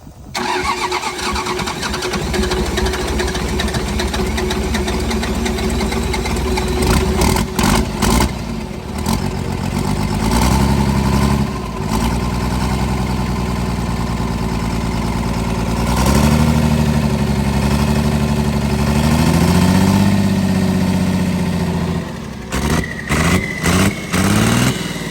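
A Cummins diesel engine in a burnout truck runs loud and close, starting up and then idling roughly with a steady throb and uneven shifts in revs, heard alone with no talk.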